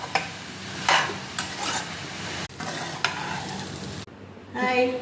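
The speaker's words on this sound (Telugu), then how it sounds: "రైస్ వేసుకొని కలిపేసుకొని" Cooked rice being stirred into mint masala in a hot pan for pudina rice: repeated scraping and stirring strokes over a low sizzle, close and fairly loud, with a short pause before the stirring resumes.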